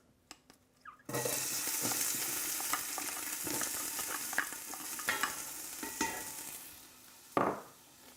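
Scallion whites drop into about one and a half tablespoons of melted butter in a pan: after a second of quiet, a loud, steady sizzle bursts up and carries on, dotted with soft stirring clicks and a sharp scrape near the end.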